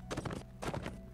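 Horse hooves clip-clop in Lord of the Rings Online, two short bursts of quick steps at moderate loudness with a gap between, alone without talk.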